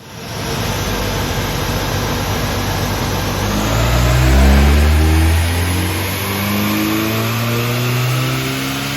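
A Hyundai i30N with a dual-clutch gearbox and fitted intake, blow-off valve and exhaust is run up on a dyno, its engine note climbing through the gears in a loud, close, sustained rising roar with brief dips at the shifts.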